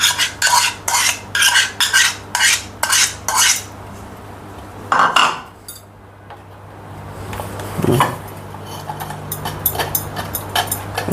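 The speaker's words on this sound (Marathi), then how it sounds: "आता या चायनीमध्ये टाकून आपण हा गर काढूया" Custard apple pulp pressed through a metal sieve with a spoon to strip out the seeds: a steady run of rhythmic scraping strokes against the mesh, then a pause, a clatter and softer scraping near and close by, with no talk.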